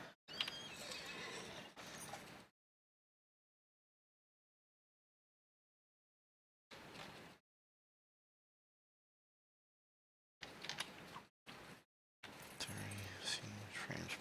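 A horse in the fantasy online game Lord of the Rings Online whinnies and clip-clops in short bursts separated by long silences, with a voice talking in places.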